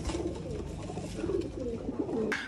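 Pigeons coo steadily in a pigeon shop setting, a continuous layer of soft, throaty, overlapping calls at moderate distance with no one talking.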